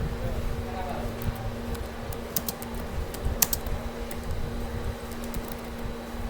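Fingers tap out a command on a computer keyboard in brief clusters of light clicks over a steady electronic hum, fairly close, with a voice talking at a low level.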